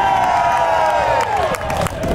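Spectators at an outdoor Lundi Gras event along the New Orleans river cheer and whoop in a loud, sustained roar, mixed with scattered clapping that eases slightly toward the end.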